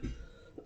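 A person coughs twice, a quick harsh burst followed by a softer second cough, faint and somewhat distant in a quiet room.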